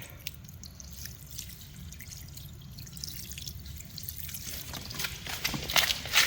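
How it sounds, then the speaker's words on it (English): Water poured onto a water-activated epoxy asphalt patch on a hangar floor, a soft continuous splashing and trickling that grows louder toward the end. "just pour water on it, just like this."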